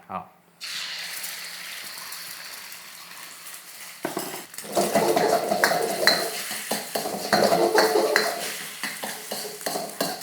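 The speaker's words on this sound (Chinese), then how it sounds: "然后我们再加一点油去炒那个鸡蛋" Egg is stir-fried in oil in a wok: a sudden loud sizzle breaks out, then metal utensils scrape and clatter against the pan in quick, uneven strokes under continuing hiss.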